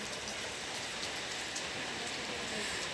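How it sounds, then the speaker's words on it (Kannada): Steady rain pours down in Bangalore, a continuous broadband hiss of drops striking surfaces, even and unbroken throughout with no voices. "ಬ್ಯಾಂಗ್ಳೂರಲ್ಲಿ ನೋಡಿ ತುಂಬ ಮಳೆ"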